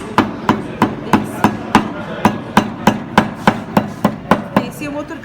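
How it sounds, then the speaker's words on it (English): Rapid, regular hammer blows, about three per second, striking a fibrous plant stalk with a dull sound at close range, with no talking. "So we need to hammer it."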